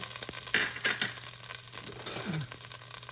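About two tablespoons of tomato paste sizzle in a pot for beef stew. Close frying crackle and hiss, with a few stirring scrapes and one short squeak, and no voice.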